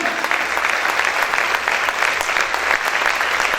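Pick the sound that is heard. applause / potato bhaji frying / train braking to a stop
applause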